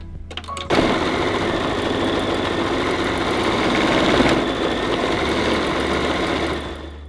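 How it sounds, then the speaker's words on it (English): A computerized in-the-hoop embroidery machine stitching wording in white thread starts with a few clicks, then gives a fast, even, continuous whirring buzz that holds steady before tapering off at the end. "we're going to sew stitch sequence 4 for the wording"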